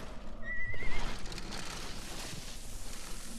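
A horse whinnies once in the Sonic and the Black Knight video game, a short rising neigh near the start over game ambience and faint hoof clops, with no talking.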